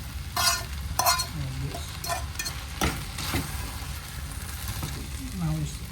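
Egg frying in a hot pan for tofu stir fry noodles, a steady sizzle with intermittent stirring scrapes, close and moderately loud, with brief speech over it.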